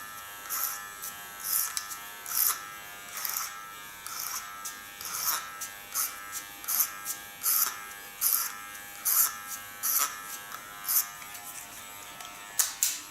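Electric hair clipper buzzing in short repeated passes during a haircut and color session, close and fairly steady in rhythm, with no talking.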